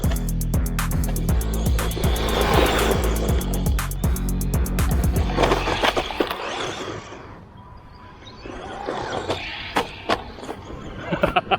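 A BEZGAR HP161 4x4 1/16-scale brushed RC monster truck drives across a grass patch. Its electric motor whines loudly at first with rhythmic mechanical clatter, then fades into quieter rustling and scattered knocks as it moves away.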